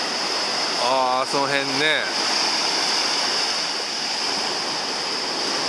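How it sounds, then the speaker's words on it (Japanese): Ocean surf carrying drifting pumice stones washes steadily onto a beach on Okinawa's west coast, a constant broad rushing wash heard throughout with a short stretch of talk early on. "波にいっぱい軽石もあってなってますね"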